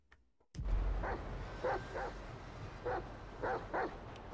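Dog barking in the video game GTA V, a series of paired barks in quick succession, moderately close, over ambient background noise with no talking.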